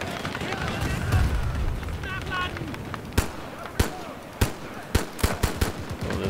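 Gunfire from a weapon in Battlefield 2042 during a Battle of the Bulge match with WWII-era guns: a run of sharp, loud shots, single at first and then closer together, over steady game background noise with someone speaking briefly.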